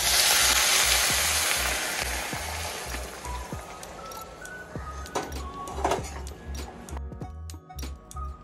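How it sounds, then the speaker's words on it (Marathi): Hot water is poured onto roasted vermicelli in a hot pan, a loud rushing hiss and sizzle up front that gradually settles into softer bubbling and a few light clicks, with no one speaking. "आता यामध्ये गरम पाणी टाकू"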